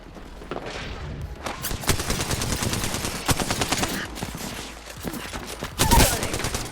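Rapid video game gunfire crackles in bursts and single loud shots, close and dense, with heavier blasts near the end and brief voices mixed in.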